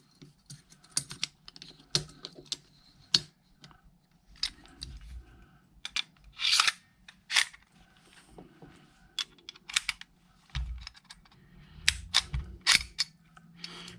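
Metallic clicks and sharp clacks from a Shadow 2 pistol with an aluminum slide being cycled by hand, scattered irregularly with quiet gaps, close and crisp with no talking.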